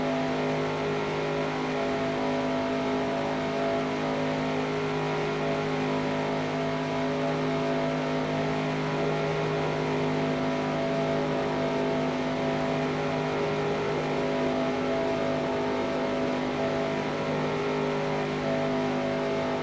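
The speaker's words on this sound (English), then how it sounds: "I can hear the tone of the engine go down" Stock car engines in the NASCAR Racing 2003 video game, a 1985 Winston Cup race at Daytona, drone loudly and steadily throughout, a sustained full-throttle roar with a slight dip in pitch and no talk.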